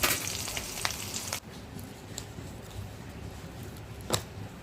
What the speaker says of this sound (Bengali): তেজপাতা, শুকনো মরিচ, এলাচ, দারচিনি নিয়েছি। সরিষার তেলে আমি ভেজে নিব।